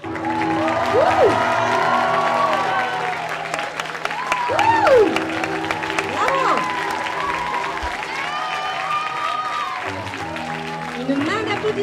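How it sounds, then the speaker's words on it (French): An audience at an eco fashion show, held in April 2023, applauds during a prize announcement, with steady clapping and crowd noise running throughout while people talk over it. "Une main d'applaudissement."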